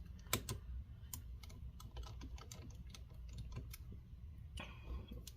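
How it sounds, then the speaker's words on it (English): Small screws being worked out of a Dell XPS 15 9510 laptop's underside: repeated light clicks and ticking taps from the screwdriver, close and fairly quiet, over a low steady hum. "we're gonna remove these 2 screws and see if we got any luck"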